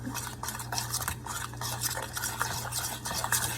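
A cracked egg being stirred into a flour and cheese dough for gluten-free garlic bread, with a continuous close scraping and mixing sound and light clinks of a utensil against the bowl, without speech.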